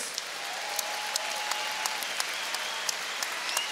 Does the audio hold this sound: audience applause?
yes